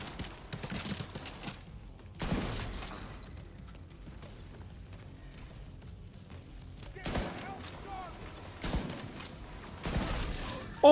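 Rapid bursts of video game gunfire while a boss is being shot, several loud clusters of shots with quieter stretches between them.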